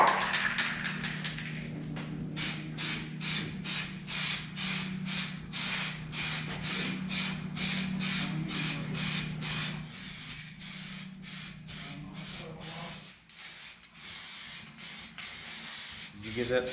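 A can of TranStar 2-in-1 primer sprays onto a freshly wiped-down car firewall in a shop, with a steady hiss broken by repeated short bursts and people talking underneath.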